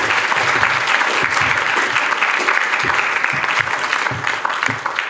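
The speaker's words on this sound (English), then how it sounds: "Help me give a hand for Emily, Voice for Victoria." An audience at a live political panel discussion claps loudly and steadily for a panel member, a dense sustained round of applause with no talking over it.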